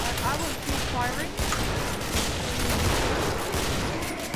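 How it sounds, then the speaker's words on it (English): Dense, continuous gunfire from several weapons in the co-op video game Killing Floor, with shots overlapping into a steady roar and voices present underneath. "I will keep firing."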